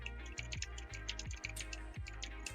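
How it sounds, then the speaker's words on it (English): Computer keyboard keys click in a quick, steady stream of close taps during typing, heard alone over a low constant hum. "if you hear my keyboard clicking"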